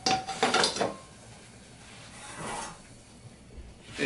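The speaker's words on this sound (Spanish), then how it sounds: "tengo una olla con agua hirviendo" A pot of boiling water is handled on a kitchen stove while white bean soup is prepared, giving a couple of metallic clanks near the start and then quiet scraping.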